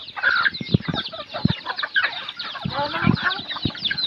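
Farm chickens cluck in a rural hillside setting, a busy run of short, irregular clucks close by, mixed with bits of nearby talk.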